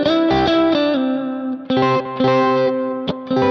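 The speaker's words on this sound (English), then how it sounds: "you're going to hear sort of the normal Marshall sound" Electric guitar played through a Kemper profile set to a standard Marshall amp tone, loud, with sustained distorted chords and notes ringing out in a steady run with brief gaps and no voices.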